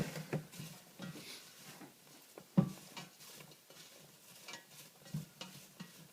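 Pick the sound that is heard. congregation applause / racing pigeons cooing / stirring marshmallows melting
stirring marshmallows melting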